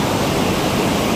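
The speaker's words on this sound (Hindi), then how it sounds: "यहाँ पानी का शोर बहुत ज़्यादा है" Rushing water at Khanpur Dam, very cold water where people bathe, roaring as a loud, steady broadband wash with no break and no voices.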